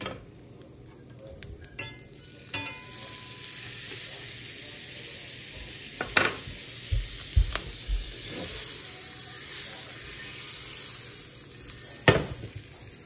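Butter sizzles in a pan still coated with the drippings of just-cooked salmon, a steady mid-level frying hiss broken by a few sharp clinks and scrapes of a utensil against the pan.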